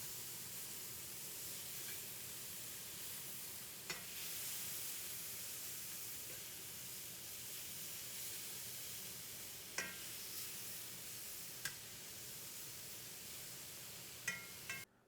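A pot of borscht simmers on the stove with a continuous, even hiss of steam and bubbling, broken by a few faint clicks and knocks, and no one speaking.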